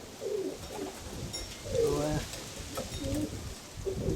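Roller pigeons coo softly in short, low warbling phrases, several calls spread across a steady background hum, with a brief spoken word at the start.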